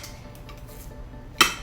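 A single sharp metallic clink as ribeye steaks seasoned with garlic are flipped in a pan, a brief bright clatter near the end of otherwise quiet kitchen sizzle.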